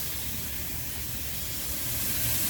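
Water sprays steadily with a hiss while a condensate drain pan on an Intellipack unit is flushed out, a constant rushing that swells slightly toward the end, with no talking.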